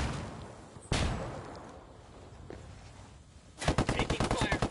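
Video game gunfire from Ghost Recon: a sharp single shot near one second, then a rapid burst of automatic fire near the end, heard up close over background game noise.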